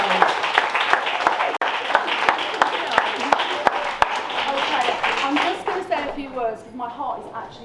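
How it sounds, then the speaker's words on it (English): A room full of people gives a round of applause at a Vegan Women's Club launch event in Shoreditch, London. Steady clapping with a few sharp louder claps runs for several seconds, then thins out and fades, followed by faint talk. "can you all just give yourselves a round of applause because you've just been outstanding"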